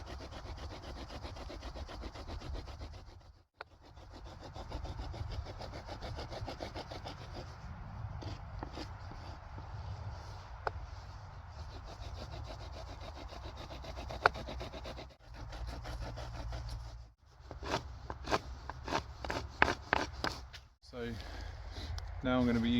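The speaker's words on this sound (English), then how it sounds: "I just need to cut it down with the flint blade." A flint blade is drawn back and forth through a piece of wood in an outdoor bushcraft setting, giving repeated rasping strokes heard close up, with some quieter pauses between them.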